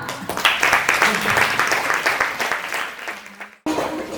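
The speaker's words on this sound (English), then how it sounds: "Okay, give them a clap." Audience clapping at a paediatrics lecture on Down syndrome. The applause comes as a dense, steady patter for about three and a half seconds, then stops abruptly.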